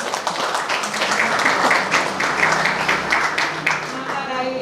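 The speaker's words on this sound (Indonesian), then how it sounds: "Tepuk tangan ibu-ibu" A group of women at a routine Hindu women's association (WHDI) meeting in Banyuwangi, Indonesia, clap together in a loud, steady round of applause while a voice speaks over it.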